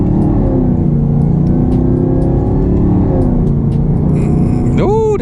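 A Camaro ZL1 1LE with a 10-speed automatic pulls hard from inside the cabin, its loud engine drone climbing steadily before a quick gear change near the end.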